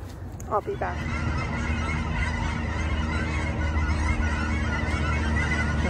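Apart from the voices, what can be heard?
ducks flying overhead, honking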